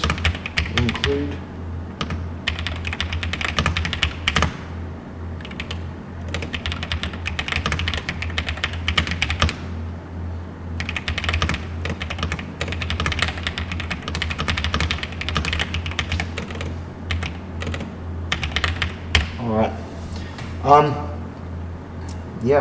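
Computer keyboard clatters in bursts of quick keystrokes while notes are taken, running steadily under a person speaking over a low constant hum.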